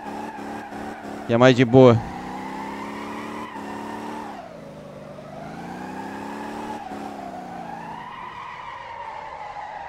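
Car drifting around a race track in the Motor Town: Behind The Wheel video game, steady engine drone rising and dipping with a brief loud tire screech early on, while someone talks over it throughout.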